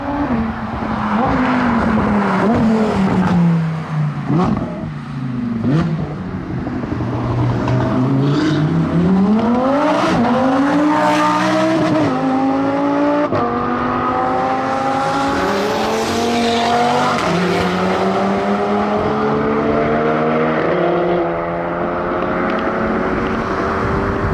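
A Lamborghini Huracan Evo with Akrapovic exhaust revs hard and loud, pitch climbing and falling repeatedly with aggressive exhaust roar and brief tire squeal, no talking.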